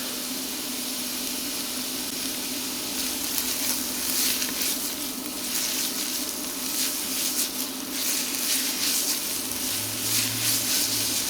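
Onions and salt frying in olive oil for a smoked BBQ tagliatelle bolognese, a steady, close sizzle and crackle with occasional stirring, and a low hum rising briefly near the end.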